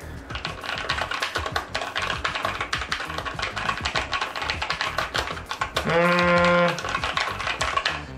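Rapid, steady keyboard typing up close, dense and continuous keystrokes with a muted, thocky tone; a brief bleating-like tonal sound cuts in near the end.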